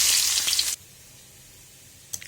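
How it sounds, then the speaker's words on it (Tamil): Mustard seeds and onions hit hot oil with a loud, hissing sizzle that cuts off abruptly after under a second. A near-silent pause follows, then a short second burst of sizzling. "இப்போ எண்ணெய் ஊற்றிக்கின்னு கடுகு, இப்போ வெங்காயம் போட்டுக்கலாம்."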